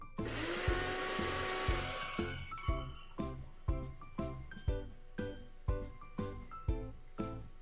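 A kitchen grinder runs with solkadhi ingredients and water inside. A dense whirring burst lasts about two seconds, then gives way to a series of evenly spaced pulsing bursts, close and fairly quiet, with no speech.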